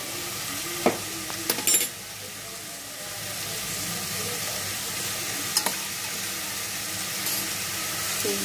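Mixed vegetables frying in a pan, a steady even sizzle running throughout, broken by a few sharp utensil clinks and scrapes early on and once more midway, with no talking.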